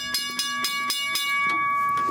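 A museum locomotive bell, packed with snow, rings in five evenly spaced strikes with a ringing metallic tone, then falls off into softer, uneven taps; close and clear, no speech.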